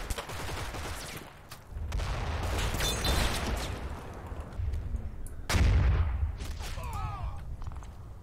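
Video game gunfire in a World War II mountain battle in Italy: repeated bursts crackle over a steady low rumble, with heavier booms mixed in and a faint voice briefly audible partway through.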